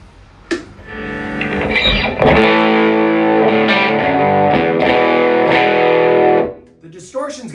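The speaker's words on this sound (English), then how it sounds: "The distortion has a little more clarity between notes." A distorted electric guitar through a tweed Deluxe-style amplifier plays sustained chords loudly for several seconds, with a brief pick attack before and a few notes trailing off at the end.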